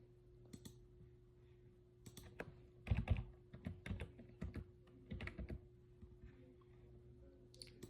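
Close, crisp typing on a computer keyboard while entering a name during an FPGA project setup, a quick irregular run of key clicks over a low electrical hum, with no talk.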